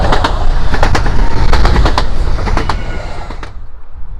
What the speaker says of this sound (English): as you can see the train coming